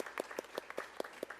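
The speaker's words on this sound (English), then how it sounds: "Let's have a big round of applause for all the people who have supported us over the years." Scattered, fairly sparse clapping from a small audience at a Bharatanatyam arangetram dance debut, with distinct individual claps landing at a loose, uneven rhythm, heard from a moderate distance and fairly quiet.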